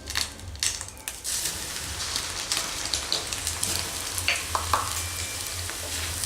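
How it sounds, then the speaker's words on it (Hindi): Thick poha flakes dropped in batches into very hot oil, frying and puffing up with a dense, continuous sizzle and crackle, with scattered sharper pops and spatters throughout, close and fairly loud, with no talking. "तेल हमें इतना गरम चाहिए कि पोहा फटाफट पफ होके ऊपर आ जाए।"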